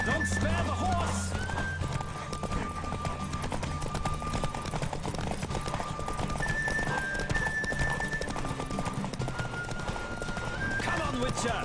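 Hooves pound in a fast galloping rhythm in The Witcher 3: Wild Hunt under a steady stream of talk, with a horse whinnying and music playing in the background.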